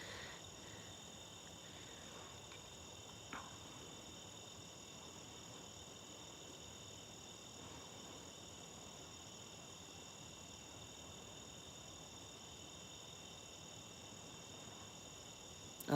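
Crickets and tree frogs trill at night on a silent hot evening, a faint, steady, continuous high chirring chorus with no voices and only one soft knock.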